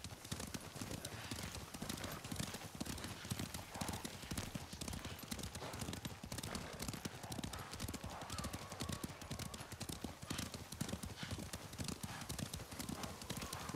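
Horses in the Ghost of Tsushima video game clop along in a continuous fast, rhythmic hoofbeat, with faint snorting and whinnying mixed in, at a moderate distance.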